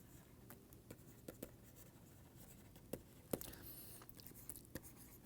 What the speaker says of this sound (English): which I can write as